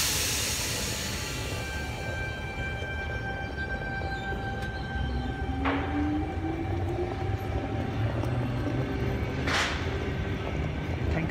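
A Sydney suburban train pulls out of platform 4 at Wolli Creek station, a continuous rolling rumble with rising whining tones and brief squeals as it gathers speed, heard fairly close with no talking.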